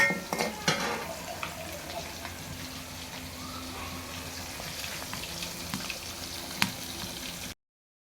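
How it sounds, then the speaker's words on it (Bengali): Thin lentil dal cooks in a pot on a clay stove, a low steady simmer broken by occasional clinks and scrapes of a utensil stirring against the pot. "চলেতেছে পাতলা ডাল রান্না, সাথে মাটির চুলায় রান্না হইতেছে।"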